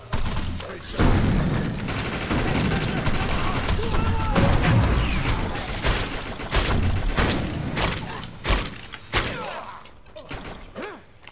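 A grenade explosion and gunfire in the video game Defiance during a co-op map, a dense, loud barrage of rapid shots and booms that thins into scattered bursts, with a voice talking over it.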